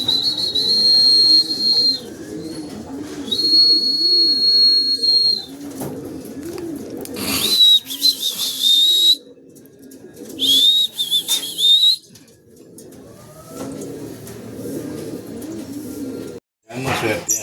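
Racing pigeons arrive home to the loft after a derby lap, their soft cooing pulsing repeatedly close by, while sharp whistle blasts sound in bursts and people talk nearby.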